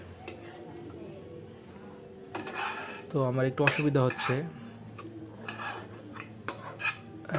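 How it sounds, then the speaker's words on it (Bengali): Noodles being stirred and mixed in a pan, with clattering utensil scrapes and clinks against metal in close bursts, while someone talks briefly over the mixing. "সুন্দর করে আমি মিক্সারটা করে নিই"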